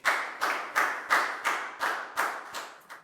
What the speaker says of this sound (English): Big round of applause for Latgal